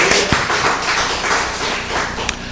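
A church congregation claps during a Korean Presbyterian service, a close, fairly loud patter of hands with a few sharper taps and thumps standing out, and no talking.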